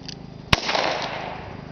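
A single sharp gunshot cracks from a Ruger Single Six .22 revolver fired at clay targets outdoors, a close, loud report followed by a short fading tail.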